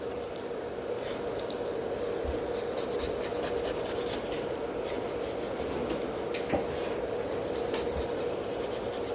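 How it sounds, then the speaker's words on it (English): A file rubs back and forth across a natural nail at a salon table, a steady, close, continuous scratchy rasp with faint repeated strokes and no talking. "I quite like this file movement as well"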